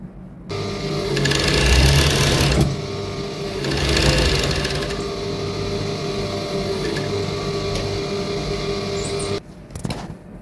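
A sewing machine stitches cotton boxer fabric in steady runs, loud and close, with brief pauses and a short stop near the end, no talk over it.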